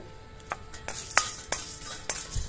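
Whole spices with cardamom are dry-roasted and stirred in a pan for homemade biryani masala powder. Faint, repeated scraping strokes and light clinks sound at a steady, unhurried rhythm, with no voices.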